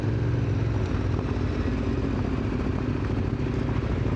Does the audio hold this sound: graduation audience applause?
no